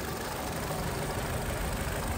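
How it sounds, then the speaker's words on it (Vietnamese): A 2010 Chevrolet Lacetti CDX with a 1.6 litre DOHC engine idles smoothly and steadily, a close, even low hum with no revving and no voices. "Máy của nó nổ rất là êm luôn."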